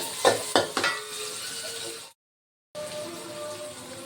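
Ingredients being stirred and sautéed in a pan while cooking macaroni, with a few sharp scraping strokes early on over a steady close sizzle that drops out briefly, then returns.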